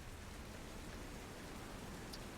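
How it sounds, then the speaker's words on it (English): Steady, dense rain and storm ambience with a constant hiss of falling water across the whole moment, no distinct drops or thunder standing out. "the din of the falling rain and the storm"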